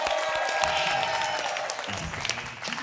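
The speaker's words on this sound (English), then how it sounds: "let's give them a nice round of applause" Continuous applause from an audience, dense clapping throughout with a few scattered shouts mixed in.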